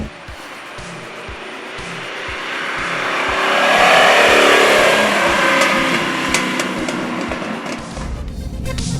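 A Lamborghini Jalpa's 3.5-liter engine accelerates up close, its roar swelling and rising in pitch, then holding a strong, steady note with a brief change near the end. No one speaks over it.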